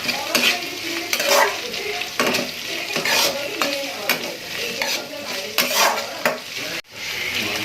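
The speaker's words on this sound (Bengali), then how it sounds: "বাঁধাকপি অ্যান্ড ফুলকপি সমস্তটা দিয়ে দিলাম যাতে এটা একটু ভাজা ভাজা হয়ে" Cabbage and cauliflower being stir-fried for veg chilli garlic noodles, with loud close sizzling and repeated rhythmic scraping and clanking of a utensil against the pan, briefly cutting out near the end.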